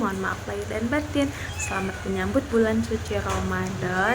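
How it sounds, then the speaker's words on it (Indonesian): A pet cat in a cage meows repeatedly in short, insistent cries, close and clear, overlapping with a person speaking throughout. "Maaf kalau suara kucing aku mengganggu"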